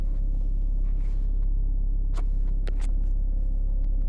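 A BMW 3 Series drives along with a steady low engine and road rumble heard from inside the cabin, constant and fairly loud, with a few brief clicks and taps over it.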